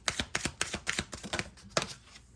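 Tarot cards are shuffled by hand in a quick run of crisp, rapid riffles and slaps, close and fairly loud, trailing off after about two seconds.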